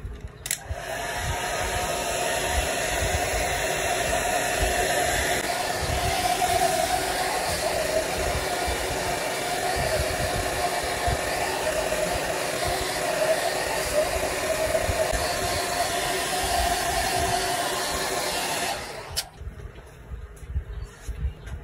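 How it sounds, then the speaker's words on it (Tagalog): A steady, loud blowing hiss from a heat gun softening adhesive on a Realme 6i phone runs continuously for about nineteen seconds, then cuts off abruptly. "gamitan natin ng heat blower or heat gun para mapalambot natin mga friend yung mga adhesive na nakadikit dito"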